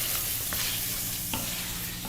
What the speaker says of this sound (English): at this point is where I'm going to add a little bit of garlic